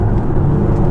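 Audi A8 3.0 TDI V6 diesel, a 2012 Executive SE, under hard acceleration from inside the cabin, a brief loud low engine drone without talk.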